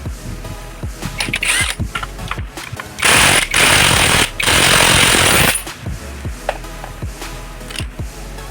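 A dry, ungreased spring on a Yamaha Mio Soul i 125 scooter creaks and rattles in a string of metallic knocks and scrapes, with two long loud grinding bursts in the middle, close and harsh.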